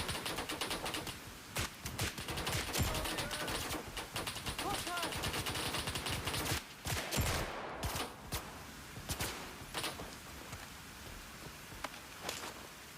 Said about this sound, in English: Who the heck is firing on me?